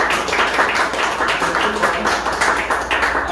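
A lecture audience claps throughout to welcome a speaker to a Repsol lubricants talk, dense and sustained with steady rhythmic swells.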